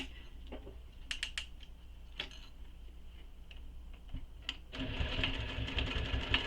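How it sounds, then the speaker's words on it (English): Sewing machine running a seam through vinyl or cork, beginning with scattered clicks and ticks before a steady, louder stitching run starts near the end. "I'm going to sew this"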